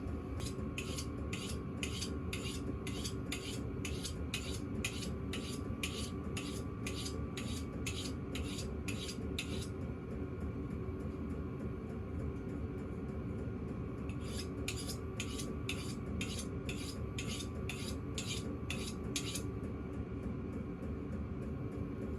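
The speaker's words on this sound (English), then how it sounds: "sitting here sharpening my knife" A knife being sharpened while processing venison, steady rhythmic rasping strokes repeated in a long even series, a pause, then another run of strokes, all over a constant low droning hum from a nearby machine, with no talk.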